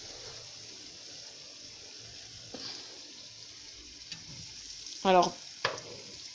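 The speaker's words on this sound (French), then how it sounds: "Et on plonge dans le bain d'huile." Carrot-top pakoda fritter lowered into hot oil: a soft, steady sizzle with a few brief bubbling bursts, the loudest near the end, and a few words spoken quietly.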